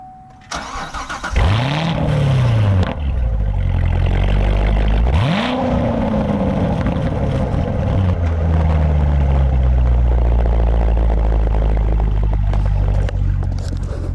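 A 2020 Chevrolet Corvette Stingray C8 fires up warm: two rising starter-and-catch blips, then the engine settles into a steady, loud, close idle.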